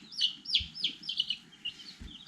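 Young egg-laying chicks chirp in a rapid run of high, bright peeps, close but quiet, with a couple of soft low thumps beneath.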